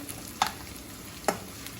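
Tempeh frying in a pan gives a soft, steady sizzle with two sharp stir clicks from a utensil, close and fairly quiet, with no voices.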